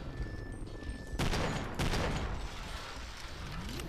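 Sharp bursts of pistol fire in the video game SMOD: Redux crack out in a short cluster over a low background hum, loud and close, then fade into ambient noise.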